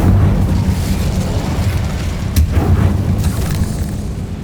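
Fire spell cast in the wizarding game Hogwarts Legacy, a low rumbling whoosh and burst of flame with a couple of sharper pops, loud and close with no talking.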